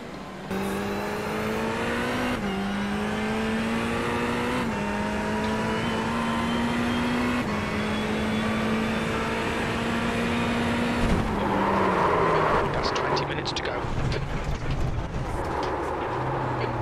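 TCR touring car engines at Long Beach in the iRacing sim, a loud sustained engine drone that shifts pitch through gear changes, then a rougher burst of revving and downshifting near the end.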